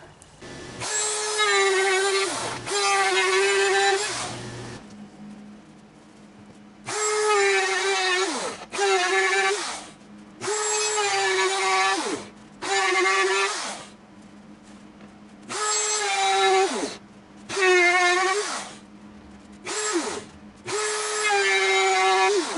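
A power tool guided by a jig cuts a sliding dovetail into the wooden side of an Arts and Crafts dresser, whining in about eight loud, close bursts of a few seconds each, separated by short quiet pauses.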